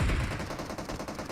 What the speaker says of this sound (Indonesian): Langsung gue tembak roket.